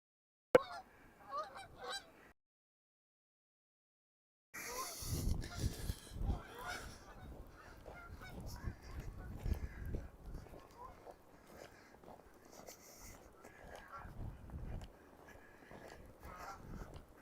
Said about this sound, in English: More geese going over there.